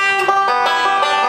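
Banjo picking a standard song-ending lick, a brief, bright run of rapid rolled notes ringing close and alone.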